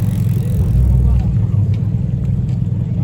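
A Porsche 911 GT3 RS driving past with a deep, loud low engine rumble that stays steady, heard close up with a faint background hum and no talking.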